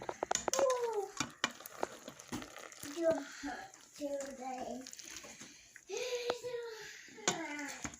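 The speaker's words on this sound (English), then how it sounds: "get your spoon and give it a stir and see how it looks" A spoon scrapes and clinks irregularly against a pot while stirring freshly cooked mac and cheese on a stove, with a voice and an adult talking in between.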